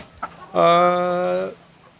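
A layer hen in an egg-production poultry farm, a 98-week-old laying flock, gives one drawn-out, fairly loud call lasting about a second, with quiet barn background before and after.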